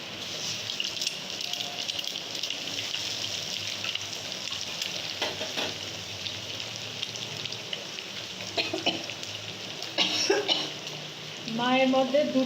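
Eggs frying with vegetables in a wok give a steady broadband sizzle with scraping stir strokes and spatula clinks, ending in a louder burst of sizzling.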